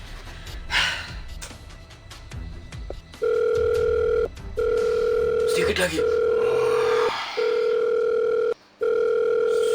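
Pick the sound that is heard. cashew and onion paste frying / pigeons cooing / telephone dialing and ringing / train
telephone dialing and ringing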